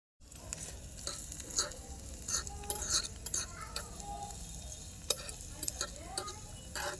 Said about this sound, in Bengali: এখানে আতিকা পেঁয়াজ ভাজছে